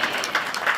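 Short burst of congregation clapping at a live church service, a dense patter of many hands that swells and dips across under a second.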